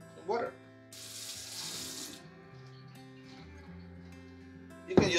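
Water splashes into empty shampoo and body wash bottles in a short hissing burst of about a second, followed by quieter clinks and movement, with a louder clatter at the end.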